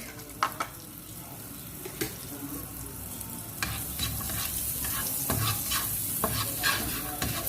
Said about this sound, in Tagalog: First we fry the egg first.